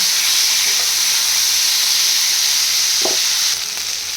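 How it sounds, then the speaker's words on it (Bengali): A loud, steady sizzle of taruli (yam) frying in hot oil, with a brief clink partway through. "তরুলিগুলো আমি একটু ভাজা ভাজা করে নেব"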